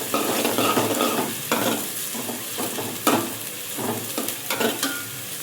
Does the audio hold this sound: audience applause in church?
no